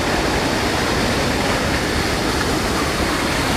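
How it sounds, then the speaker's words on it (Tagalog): Water runoff from rice paddies pours down in a steady, loud rushing wash, close and unbroken, with no voices heard. "Yan oh, may bagsakan dito ng tubig. Galing dito sa mga palayan."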